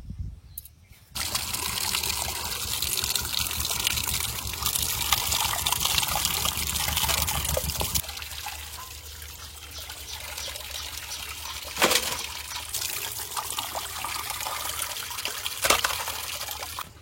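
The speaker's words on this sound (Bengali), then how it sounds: "এবার ভালো করে ধুয়ে নিয়ে আসি মাছগুলো।" Pieces of katla fish, a large carp from a river, being rinsed in water, with steady trickling and pouring close by and a few splashes and clatters, and no talking.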